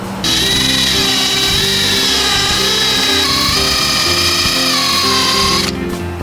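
A drill spinning a rubber eraser wheel strips glue residue from the body trim of a Cummins-powered truck, a loud, close, continuous high whine that shifts pitch slightly as the wheel is pressed against the surface, then cuts off.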